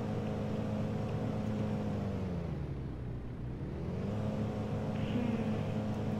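A plane engine in Lego Worlds gives a steady droning hum with layered tones that dip in pitch midway and then climb back up, holding at a moderate, constant level throughout.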